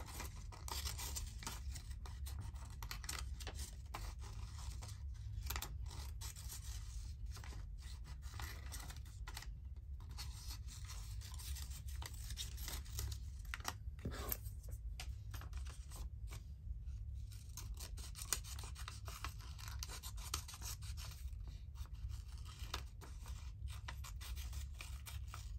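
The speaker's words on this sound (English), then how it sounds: "Let's cut them out. I need my other scissors." Steady scraping, rasping cuts of scissors through paper while crafting Christmas bags, close and continuous but quiet, with no talk.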